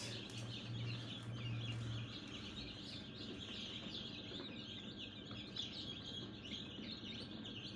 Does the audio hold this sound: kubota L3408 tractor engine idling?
no